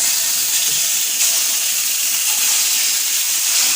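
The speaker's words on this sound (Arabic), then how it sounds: "كده يا جدعان الزيت سخن معانا. هنفضي بقى الكبده فيه." Liver dropped into hot oil for Alexandrian-style fried liver, giving a loud, steady broadband sizzle that hisses continuously without a break and without talk.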